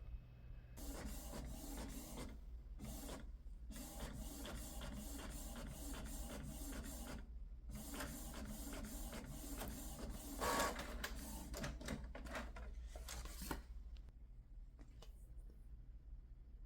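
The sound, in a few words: Cricut cutting machine cutting stickers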